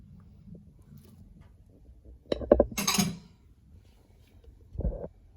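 Filling for stuffed zucchini, with bacon, boiled beans and fresh peas, is stirred in a bowl, giving a few clinks and scrapes of a utensil against the dish around the middle, with quiet gaps between.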